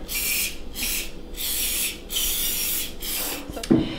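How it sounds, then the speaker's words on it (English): Cooking spray hissed into muffin cups in several steady bursts of about half a second each, separated by short pauses, loud and close, ending in a small clunk as the can or pan is moved. "You'll take your spray and you want to spray the muffin cups so that the wontons don't stick."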